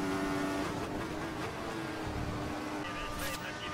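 Formula 1 cars in a racing video game, including a Marussia, McLaren, Williams and Ferrari, drone and whine past at speed, with steady engine noise running under continuous race commentary.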